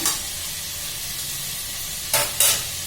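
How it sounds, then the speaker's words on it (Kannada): Jackfruit biryani ingredients fry in a little oil in a pan, a steady soft sizzle running throughout with two brief louder bursts of stirring or added food near the end; no talking. "ಇದಕ್ಕೆ ನಾನು ಇದೊಂದು ಸ್ವಲ್ಪ ಎಣ್ಣೆಯಲ್ಲಿ ಒಂದು 5 ನಿಮಿಷ ಹುರ್ಕೊಳ್ಳೋಣ"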